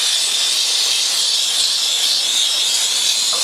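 A steam cleaner hisses steadily against a bicycle's brake rotor, a loud, close, unbroken high-pitched jet of steam with no pauses or voices.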